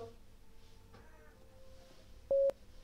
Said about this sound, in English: You wanna add a beep,